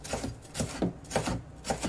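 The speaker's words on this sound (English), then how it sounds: "I left in a lot of chopping." Knife chopping a large red pepper and other stir-fry vegetables on a flat cutting surface, a steady series of close, crisp chops repeating about every third of a second, with no talk.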